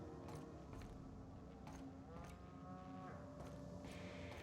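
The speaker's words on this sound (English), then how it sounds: "why are there cows on my ship?" Cattle mooing aboard a spaceship in the video game The Outer Worlds, several drawn-out lowing calls repeating over a steady mechanical hum, fairly close and clear with no talk.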